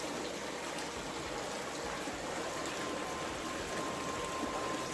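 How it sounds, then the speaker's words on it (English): Water coming off the side of a sluice and pouring into a 5-gallon bucket while panning for gold, a steady close trickling and splashing stream with no pauses. "The water's coming off the side."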